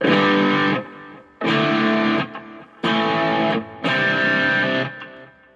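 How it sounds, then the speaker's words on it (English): Heavily overdriven electric guitar through a tube amp with a Tube Screamer pedal and a little delay plays four sustained, crunchy chords, each ringing about a second with short pauses between, thick with grit. "Pretty dirty with a tube screamer in front of it with a little bit of delay."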